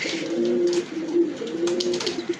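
A European Toy Lahori pigeon coos close up in a steady, low, rolling drone lasting a couple of seconds, with no voices.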